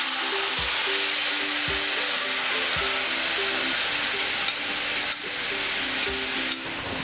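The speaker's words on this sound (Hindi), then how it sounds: "इसमें अब ये इमली का पल्प डालेंगे" Tamarind pulp hits hot oil seasoned with cumin seeds and asafoetida over a low flame, giving a steady, loud close sizzle with a constant hiss, a few soft clunks of the spoon, and no talking.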